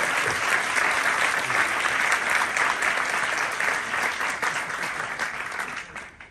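Audience applause after a poetry collection interview, a dense, steady clapping from a crowd that holds strong for about five seconds before thinning and fading at the end.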